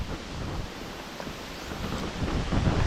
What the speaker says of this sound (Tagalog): Lakas ng hangin, ayun.